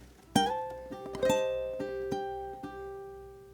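Ukulele picks out the next bar of a song in a slow country style, a few plucked notes and strummed chords ringing and decaying one after another, close and clear with no voice.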